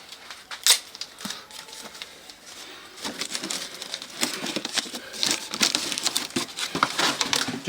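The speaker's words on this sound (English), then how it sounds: "just wrap the tape around it" Tape crinkles and rustles as it is wrapped around a weight bar, with soft sticky crackles and pulls that grow busier and denser after a quieter start, close by.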